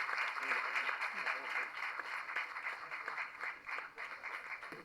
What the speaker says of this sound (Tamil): பலத்த கரகோஷங்களுடன்